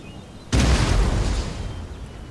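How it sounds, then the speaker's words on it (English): Medium howitzer batteries in Napoleon Total War let off a sudden loud boom with a heavy low rumble that trails off over a couple of seconds. "let's just see how the batteries look when they fire"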